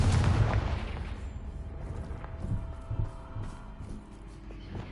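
Confringo fire spell in Hogwarts Legacy goes off as a deep booming blast at the start, followed by rumbling, crackling decay and a few smaller thuds, moderately quiet overall.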